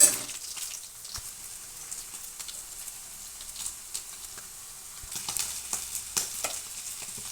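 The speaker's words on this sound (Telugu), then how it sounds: "బ్రౌన్ కలర్ వచ్చేదాకా ఇలా ఆయిల్లో కొంచెం ఫ్రై చేసుకోవాలండి" Baby potatoes sizzle and crackle in hot oil while being stirred, a close, fizzing patter that swells in bursts, with no voices.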